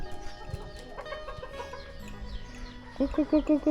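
Chickens cluck in a rural village yard among farm sounds, with faint background activity and a louder run of rapid, close clucks near the end.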